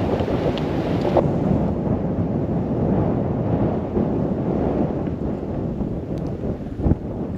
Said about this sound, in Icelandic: eins og heyra má þá var nokkur vindur sem átti eftir að haldast yfir daginn